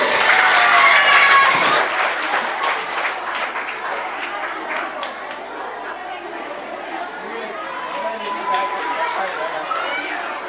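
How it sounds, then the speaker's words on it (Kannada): Loud clapping from an audience at a school function, strongest at the start and then settling into a busy wash of crowd chatter and children's voices with scattered claps continuing. "ಜೋರಾದ ಚಪ್ಪಾಳೆ ಬರಲಿ, ಜೋರಾಗಿ, ಇನ್ನೂ ಜೋರಾಗಿ"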